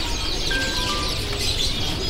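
Dark-coloured loper canaries at a bird market kiosk, chirping and trilling in brief high tweets over steady background market noise.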